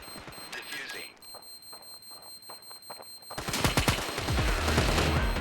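A bomb explodes in the Standoff shooter game. Faint tones and scattered clicks come first, then a sudden loud, sustained blast with a rumbling roar and crackle that fills the remainder.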